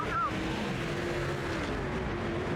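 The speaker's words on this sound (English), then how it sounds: "I heard a car." Race car engines in the NASCAR 06 video game, a faint, steady engine drone at low volume behind the game audio, with a short rising whine near the start.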